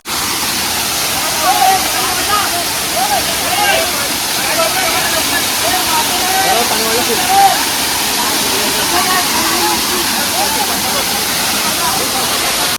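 Loud, constant roar of rushing water from Padghe waterfall at Umroli in rising flow, steady throughout with faint voices in the background.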